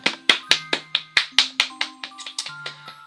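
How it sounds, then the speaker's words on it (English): A run of about a dozen sharp hand claps in quick, steady rhythm, close and loud, each with a brief decay, with faint sustained synthetic tones from a Super Mario Galaxy game underneath. "That clap is for Nintendo Logic"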